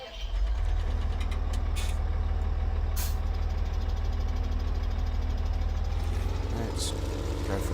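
A tractor engine in the video game Farming Simulator 17 gives a loud, steady, low droning rumble that holds throughout, with a few brief hisses and higher beeps on top.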